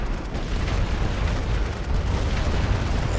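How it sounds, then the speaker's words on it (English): Artillery fire in the WW1 strategy game The Great War: Western Front, heard as a dense, continuous roar of overlapping distant explosions and booming rumble with no pauses. "Yeah, you gotta love that artillery."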